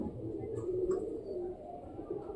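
Wild pigeons coo in low, soft repeated calls close by, a steady murmur of cooing with a few faint higher chirps, no voices.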